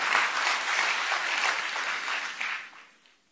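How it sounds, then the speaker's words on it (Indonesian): A church congregation applauds loudly during a sermon, a dense sustained wash of clapping that holds steady for a few seconds before tapering off. "Berikan tepuk tangan yang meriah buat Tuhan."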